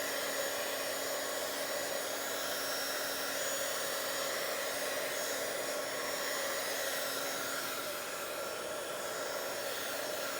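A heat tool runs steadily for about ten seconds, drying distress ink on a Bible journal page; the whirring blow is loud, close and continuous with no talk.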